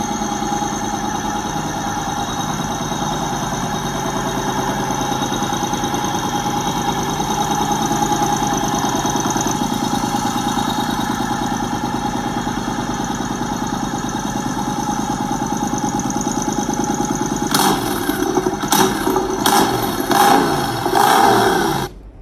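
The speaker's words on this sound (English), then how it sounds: "And then this is what the bike sounded like." A custom-built travel motorcycle's engine runs steadily close by, a loud, even mechanical drone with a constant throbbing pulse that turns rougher and choppier with bursts near the end before cutting off.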